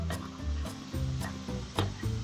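Homemade slime stirred in a bowl, giving close, wet squelching and scraping strokes in a repeated rhythm, soft and steady with no voices.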